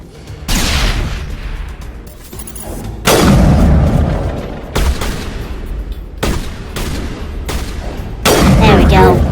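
Grenade blasts and gunfire in the video game Mass Effect, several heavy booming explosions with rumbling tails, loud and close, with a voice talking over parts of it.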